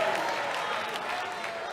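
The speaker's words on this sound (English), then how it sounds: "you can clap once, go ahead" Brief applause from a church audience: a short burst of clapping from many people, moderately loud, without any clear speech over it.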